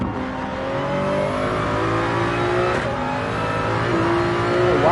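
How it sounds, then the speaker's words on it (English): BMW race car engine in Gran Turismo 7 at Daytona, a steady loud droning whine that holds across the whole stretch with slight pitch shifts as the car accelerates. "Waco here is just flying in the BMW."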